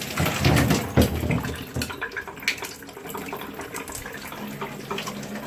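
Water drains out of a rusty 1963 Farmall Cub gas tank after electrolysis rust removal, a loud close splashing gush at first that thins into trickling and dribbling.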